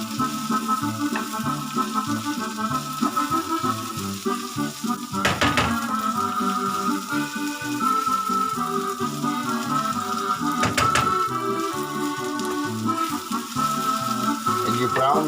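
Sausage for currywurst frying in a pan, a steady close sizzle throughout with a couple of brief louder crackles as it settles in the hot fat.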